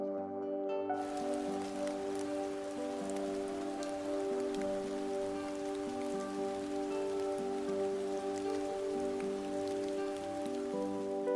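Heavy, constant rain falling on surfaces in a perpetually wet land, a dense steady patter of drops over a sustained hum, even and unbroken throughout with no voices.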